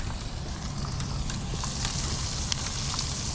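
Coho salmon fillets fry skin-side down in a hot pan, giving a steady, close sizzle and crackle with small spits and pops that runs unbroken throughout.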